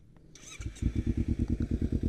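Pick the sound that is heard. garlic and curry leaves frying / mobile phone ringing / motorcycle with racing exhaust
motorcycle with racing exhaust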